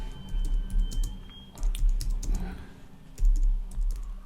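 Quick bursts of typing on a computer keyboard, with soft key clicks coming in short clusters and brief pauses between them. The sound is close and fairly quiet, with no voices.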